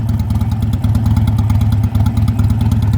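Steady motorcycle engine drone while riding, a constant close low rumble with a slight pulsing throb and no let-up across the whole stretch.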